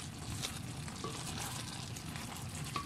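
Chicken feet adobo, Bisaya style, simmering and reducing in a pan, giving a soft, steady bubbling sizzle that stays low and even throughout with no voices.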